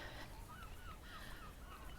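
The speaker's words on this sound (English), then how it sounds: "and the birds are squawking." Birds squawk in short, scattered calls over a steady wash of wind and surf noise on a quiet, warm seafront promenade at Cleveleys, fairly distant and never loud.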